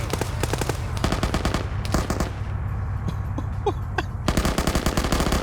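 Heavy gunfire from an Arma video game match in an OFCRA Russia versus Norway session, with dense repeated bursts of automatic fire that pause briefly in the middle, then resume loudly and continuously.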